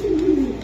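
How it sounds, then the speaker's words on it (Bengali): A red Pakistani pigeon gives one short, low, throaty coo, close and clear. "এমন একটা কবুতর আমি দেখাইতেছি আপনাদেরকে, খুবই চমৎকার।"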